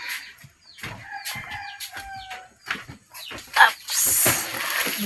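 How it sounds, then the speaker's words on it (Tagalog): Chickens clucking and calling while they eat, scattered short clucks and squawks nearby, with clattering and a brief loud rushing noise near the end. "Ang manok nagkaon."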